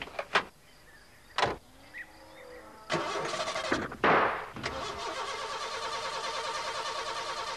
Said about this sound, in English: Oh, dear. She won't start, Ted.